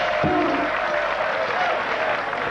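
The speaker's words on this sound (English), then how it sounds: "Well, there the stand applauding." Crowd in the stands at a 2003 World Championship darts match applauds in a steady, full wash of clapping that holds for the whole stretch, with faint voices in the background.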